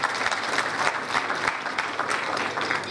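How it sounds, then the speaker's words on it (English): Participants at a 2014 graduation ceremony give themselves a round of applause, a full, even burst of many hands clapping together close by and steady throughout. "Give yourself a round of applause."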